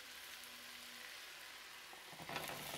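Leeks and onion sauté in a Cookeo multicooker pot, giving a soft continuous sizzle with a few brief stirring scrapes near the end.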